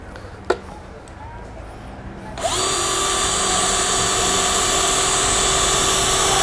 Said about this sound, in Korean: 한 번 더 뚫어보세요.